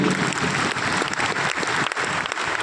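Applause from an audience at an AWPL festival event in Thailand, dense and steady for nearly three seconds, a loud wash of many hands clapping with no voices over it.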